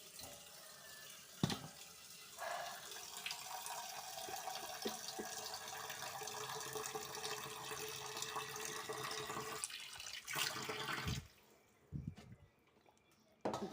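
Water runs from a tap into a bowl and is drained away while fish pieces are washed for cooking, a steady close splashing flow that stops near the end, with brief handling knocks.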